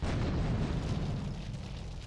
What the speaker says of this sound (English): Instead, we can just rocket it.